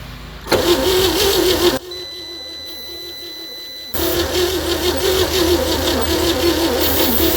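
A 1960 Chevy C10 engine that has sat for decades is cranked over by the starter, trying to catch. The cranking runs steady and loud, breaks off briefly, then resumes without the engine starting.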